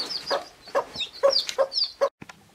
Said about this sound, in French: Nous on mange pas les poules alors le jardin est envahi de poupoules.